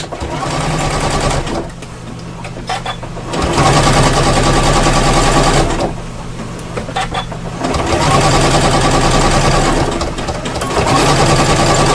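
A sewing machine stitches fabric for a wire frame bag in an embroidery class, running in steady bursts. Loud rapid needle clatter drops into brief quieter pauses between runs, with no voices.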